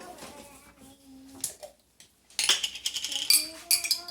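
Pizza sauce spooned in a spiral over cheese on a crustless pizza: soft scraping clinks of a metal spoon against a pan, sparse at first, then a denser run of wet scrapes and taps, fairly close and moderate in volume.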